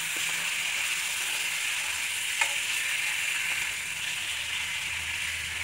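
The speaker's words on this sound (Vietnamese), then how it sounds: "mình xào cho săn thịt lại nha, săn cứng thịt lại." Salty caramelized pork ribs stir-fry in a pan with a steady, hissing sizzle and an occasional faint scrape of stirring, close and even throughout with no talking.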